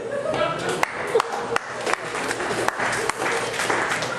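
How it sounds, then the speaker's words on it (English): An audience at a comedy show claps steadily and fairly loudly, with a bright crowd texture and occasional sharper claps throughout. "Clap it up for getting together."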